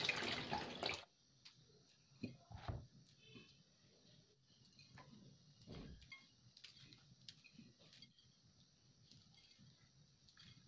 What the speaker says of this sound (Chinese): 先把它洗干净。